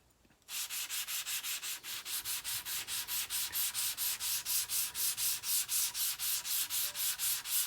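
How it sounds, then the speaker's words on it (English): A gun side plate is rubbed against 1000 grit sandpaper in steady, even back-and-forth strokes, a close, loud, regular rasping rhythm that starts suddenly after a brief quiet moment and continues without talk. "Using 1000 grit sandpaper here, and I'm doing the side plate, just trying to keep it flat."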